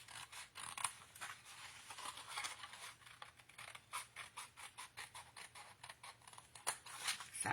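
Scissors make quick, faint, repeated snips through scrapbook paper while the middle section is cut out, a close, soft clicking series with no voices.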